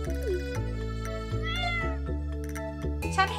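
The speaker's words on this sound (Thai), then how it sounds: "เห็นแมวตัวนี้ไหม" A cat in the farming video game Stardew Valley meows several times in a row, clear and close, over steady low game music with no talking.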